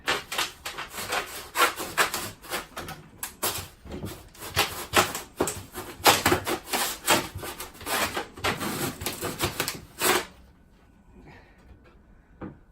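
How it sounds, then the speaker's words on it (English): An old, slightly blunt handsaw cuts through plastic in steady back-and-forth rasping strokes, close and loud for about ten seconds before stopping. "So decided to use a handsaw. Say an old one. A little bit blunt, tends to work a little bit better on plastic from what I've found."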